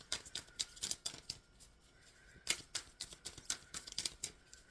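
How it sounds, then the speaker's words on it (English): Tarot cards being shuffled by hand, a quiet series of quick papery riffles and flicks in irregular bursts, close up and faint, with no talking. "I am shuffling for the Leo Collective for their greatest good for"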